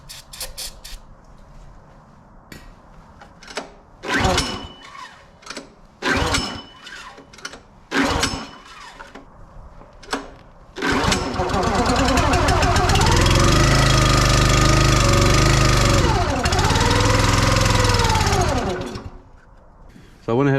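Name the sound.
log splitter engine being started and running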